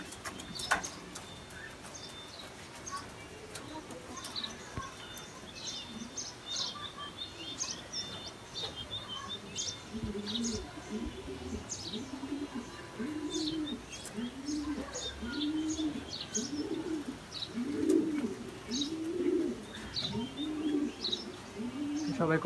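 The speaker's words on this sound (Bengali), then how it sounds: "কবুতর সব বাইরে ছাড়া।" Pigeons in a loft give repeated low, throaty coos in a steady rolling rhythm, with scattered higher chirps and small rustles around them, fairly close and without speech.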